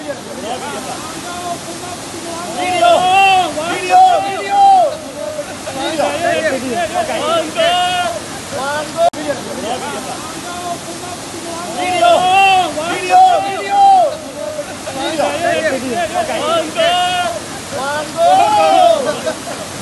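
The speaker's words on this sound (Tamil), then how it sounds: "ஃபால்ஸுக்கு வந்திருக்கோம்." A waterfall in California roars as a steady broadband rush of falling water, close and loud throughout, with several people talking over it.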